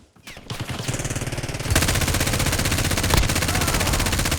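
Sustained automatic gunfire from the Call of Duty: Warzone video game, rapid bursts that start sparse and then run continuously and loudly for several seconds, with no voices over them.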